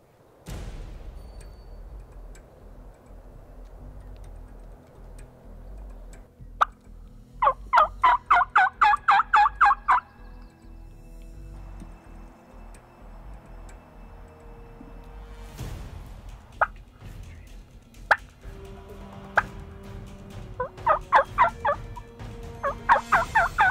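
Wild turkeys gobble during a spring hunt in Washington: two bursts of loud rattling gobbles, several close together, with scattered clicks and a low outdoor hum between them.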